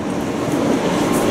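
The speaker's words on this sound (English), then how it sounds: "Alright, are we taking this train?" A subway train rides through the city with a steady, close rumble and broadband rush that holds evenly from start to finish, with no voices over it.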